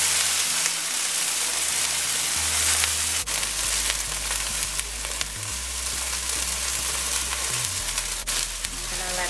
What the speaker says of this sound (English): I have my oil heating up. I'm going to add this shrimp.